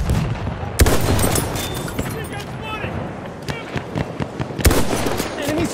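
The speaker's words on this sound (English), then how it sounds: "Enemy machine gun!" Machine gun fire and explosions in a war video game, with loud bursts and sharp cracks over a constant battle din while voices shout.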